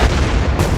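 A fuel drum blasts apart after welding sparks land on it, a loud, dense, booming burst that stays heavy and rumbling for under a second with no voices.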